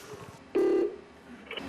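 A telephone at a fire emergency call center in Ulsan, South Korea, gives one short ring tone in a quiet room, with faint background noise before and after.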